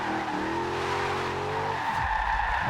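Lexus RC F V8 engine in Forza Horizon 2, holding a steady high-revving drone with tire screech while drifting, then dropping off sharply near the end; loud and close, with no talking.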